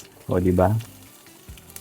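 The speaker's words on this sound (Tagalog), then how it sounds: "Ilagay na natin tong bawang sibuyas." Garlic and onion hit hot cooking oil for pinakbet, giving a soft, steady sizzle that runs beneath a brief spoken phrase and then continues quietly on its own.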